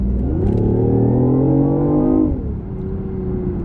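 A BMW i8 hybrid sports car, floored at full throttle, revs loudly with a climbing engine pitch for about two seconds before the note drops and settles into a steadier drone.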